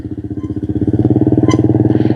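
A motorcycle engine runs close by with a pulsing, throbbing rhythm that grows slightly louder as the bike pulls away, with a brief click partway through.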